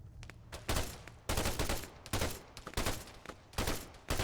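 Several sharp bursts of rifle fire crack out in Arma 3 as rounds strike a fence. The bursts come in quick clusters separated by short pauses, at moderate volume with no talking.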